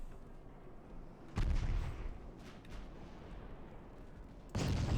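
Naval gunfire from warships in the game Ultimate Admiral Dreadnoughts, with two heavy booming shots separated by a few seconds and a faint rumble in between, fairly distant and without speech.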